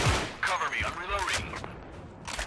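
Rapid M16A3 rifle bursts ring out in the video game Special Force 2, a fast run of synthetic gunshots with a spatial reverb, mixed under a voice talking.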